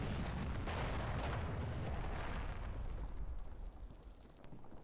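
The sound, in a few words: artillery volley explosions in video game Combat Mission Cold War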